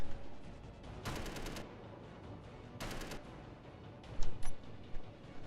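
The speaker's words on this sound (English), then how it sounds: "The easiest way to do that in survival mode is to shoot the part you don't want." Gunfire in Space Engineers video game shooting off a rotor part: two short bursts of rapid automatic shots, followed by a few sharper single impacts, over a low background hum.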